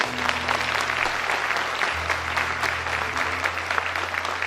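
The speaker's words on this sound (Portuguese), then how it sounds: "Você pode dar um aplauso ao Senhor?" A church congregation claps in a steady burst of applause that fills the room, with some voices audible underneath.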